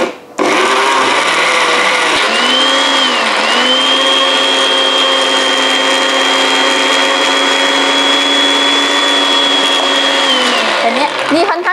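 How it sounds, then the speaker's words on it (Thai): A blender blending Chinese plums for sorbet runs steadily for about ten seconds, a loud continuous whirring motor with a shift in pitch early on, then spinning down at the end. "ไม่รู้ว่าเครื่องปั่นนี้จะมีแรงพอหรือเปล่านะคะเดี๋ยวเราลองปั่นกันดู"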